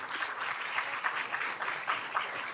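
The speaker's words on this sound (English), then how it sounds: "Please give them a round of applause real quick." Audience applause at a Capitol Hill luncheon on ultra-processed foods and U.S. health: a steady, dense wash of many hands clapping at moderate volume, continuous throughout with slight swells and no voices.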